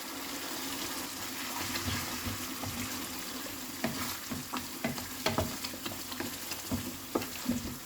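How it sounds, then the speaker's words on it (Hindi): Tomato puree goes into mustard masala frying in oil for a Bihari fish curry, giving a continuous low sizzle with wet splattering crackles and a few stirring clicks, fairly quiet and with no talking. "अब इसमें हम टमाटर का प्यूरी डाल देंगे।"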